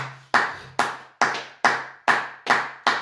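A church congregation claps in unison to acclaim the Lord, with sharp loud claps landing about every half second in a steady rhythm, each ringing briefly in the room.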